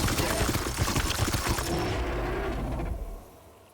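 Gunshots in the turn-based game Warhammer 40,000: Chaos Gate - Daemonhunters, a dense, rapid rattle of loud close shots that fades out over the last half second.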